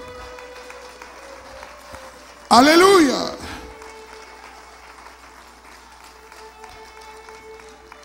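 A church congregation breaks into a short, loud burst of clapping during a sermon, with a voice calling out over it. The clapping fades within about a second, and quiet room tone follows.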